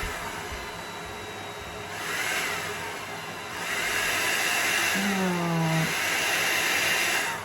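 An air blower run on low through a Foredom speed control foot pedal pushes alcohol ink across a surface. It gives a steady, moderately loud airy rush that swells and eases a few times, with a faint tonal hum partway through.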